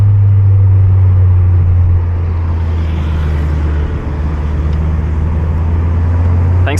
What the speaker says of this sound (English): Turbo seems to be a bit louder. Still pulling as hard as ever.